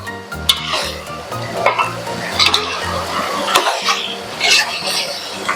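Chicken fry is stirred in a pan after ginger garlic paste goes in, with a spatula scraping and clinking against the metal over a busy frying sizzle, close and continuous.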